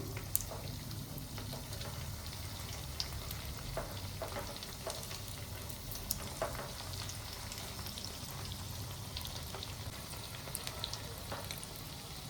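Sabudana and potato tikki fry in a pan over a low flame, giving a steady, close sizzle with small pops and crackles throughout and no talking.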